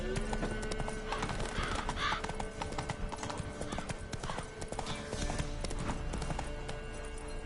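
A horse ridden in The Witcher 3 video game, with steady clip-clop hoofbeats and an occasional neigh over a dense layer of game ambience and music, heard up close and continuously.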